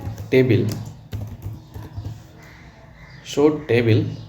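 Keys clatter as a command is typed on a computer keyboard during a MySQL database lesson, a soft tapping that runs quietly beneath a voice speaking in Hindi.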